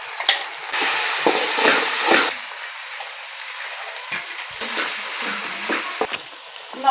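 Onions frying in a pan with garlic-ginger paste and green chili, a steady close sizzle with intermittent stirring scrapes and small crackles, rising and easing in waves, no talk.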